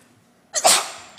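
One sharp, loud sneeze bursts out close by during a city commission meeting, after a stretch of near silence.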